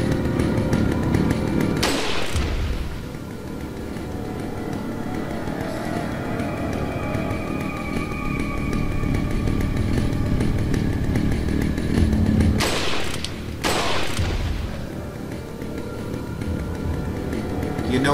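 Chainsaw revving continuously in Resident Evil 4, a loud sustained buzzing drone broken by two brief sharp thuds near the start and later, with no talk over it.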